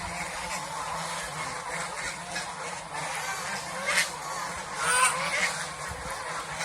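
Domestic geese on a farm honk and call in a busy group, with a steady chorus of overlapping honks that swells louder toward the end.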